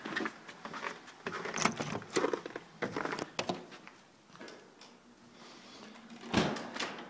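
A house's front door is handled with a series of knocks, clunks and rattles, followed by a louder thud near the end. The sounds come close and are irregular, with quieter pauses between them.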